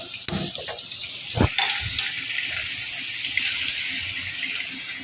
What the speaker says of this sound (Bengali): হাঁড়িতে জল দিয়ে নিচ্ছি।